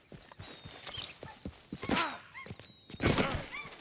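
Horse hooves clop in the video game Red Dead Redemption, a quiet uneven run of thudding steps mixed with game ambience, birdsong and a few louder rustling bursts.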